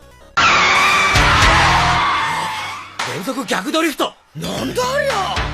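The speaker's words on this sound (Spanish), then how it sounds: "empezó derrapando hacia la derecha y terminó derrapando hacia la izquierda" A drifting car in the Initial D anime skids in a long, loud tire squeal under engine roar, then breaks into shorter screeching bursts as it swings from one direction to the other.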